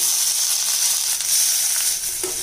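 Onion and tomato hit hot tempering oil with curry leaves, giving a loud, dense hiss of sizzling that runs the whole time, close and steady without speech.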